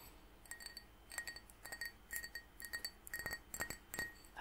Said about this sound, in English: this is actually nice glass tapping